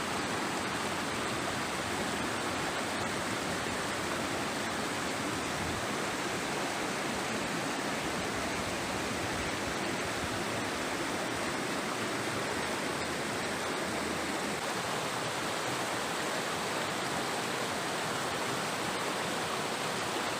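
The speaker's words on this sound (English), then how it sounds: "I hope you can hear the sound of the river flowing." A river at the Siloni picnic spot in Karbi Anglong, Assam rushes in a steady, dense, even wash of flowing water that runs unbroken throughout, with no voices.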